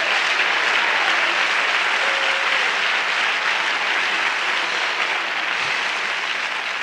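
Congregation in church claps hands steadily, a dense, even wash of many hands applauding at constant loudness from start to finish with no talking over it.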